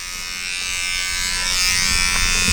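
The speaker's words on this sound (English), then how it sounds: "Don't be afraid to just use a small part of your clipper." Electric hair clippers buzz steadily and close up while trimming hair for a skin-faded Ivy League cut, a continuous motor hum that swells slightly louder toward the end, with no talking.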